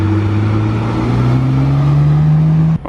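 A small Italian car drives past with its engine revving, a steady loud mid-pitched drone that rises gradually in pitch as it accelerates close by, then cuts off abruptly.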